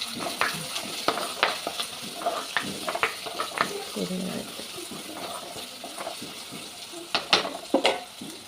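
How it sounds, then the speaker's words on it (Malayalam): Onions sautéing in a pan for sambar with dried chillies, fenugreek, mustard seeds and curry leaves, steady low sizzle broken by frequent stirring scrapes and clinks of a spoon against the pan. "നമുക്ക് ഉള്ളി വഴറ്റാം"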